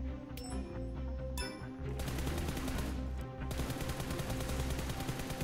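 A player shoots from a crouched position in PUBG Mobile, loud rapid automatic gunfire rattling in a fast steady rhythm after a couple of sharp single shots, close and alone.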